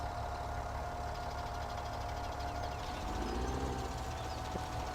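Tractor engine running steadily in the Farming Simulator 17 video game, a continuous low mechanical drone with a faint whine on top, moderately loud and with no talking.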